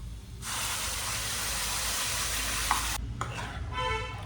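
A cashew and tomato paste sizzles and hisses as it fries in butter on a low flame, with a steady frying noise over several seconds and a brief break near the end.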